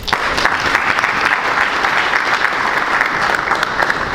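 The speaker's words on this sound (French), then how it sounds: "Et je vous demande de les applaudir." An audience at a regional conference claps warmly for a project team, producing a thick, continuous wash of many hands that stays loud and steady for several seconds.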